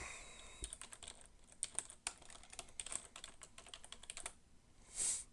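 Quick, uneven bursts of keystrokes tapped on a computer keyboard, faint and close, with short pauses between runs and no talking.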